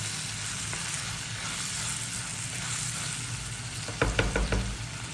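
Onions and tomatoes fry for an egg curry, giving a continuous close sizzle, with a few sharp scraping stir strokes near the end.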